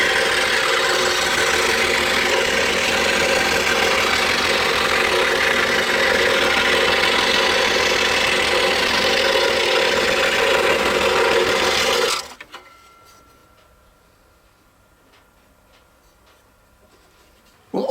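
A scroll saw cuts just outside the line around a circle in cherry wood, a loud steady buzzing rasp that runs unbroken for about twelve seconds, then stops abruptly, leaving near silence.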